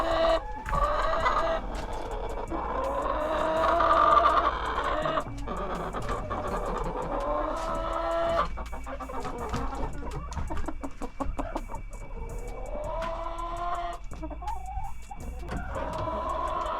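A flock of 38 chickens on a farm cluck and call in a loose, overlapping chorus, fairly close and steady, with occasional shuffling and rustling underneath.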